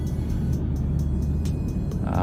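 A supercharged 6.4-litre V8 Jeep SRT engine drones with a heavy, steady low rumble from inside the cabin, a faint high supercharger whine riding above it, and a rising note near the end.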